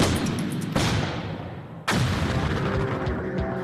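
A MOAB bomb explosion erupts in two massive, loud blasts, each a sudden broadband boom followed by a long rumbling roar that slowly fades, with no voices over it.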